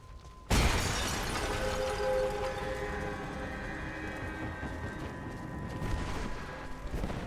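A thrown lantern shatters in Rise of the Tomb Raider: one sudden loud crash, then a sustained ringing, rumbling wash that slowly fades over several seconds, with no talk.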